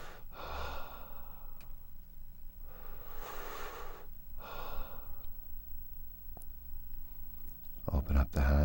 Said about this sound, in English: helping the client to take 3 beautiful deep breaths